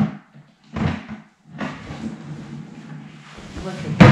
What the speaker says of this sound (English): now that we have our drawer assembled, we're gonna put it in here and see how we did